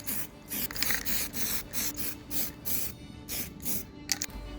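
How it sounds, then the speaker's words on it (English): Short hissing bursts from a Tamiya spray paint can repeat in a steady rhythm, about a dozen quick pulses close to the listener, fairly quiet with no talking. "The next step is to give them all a spray in a Tamiya Colors NATO Brown spray paint"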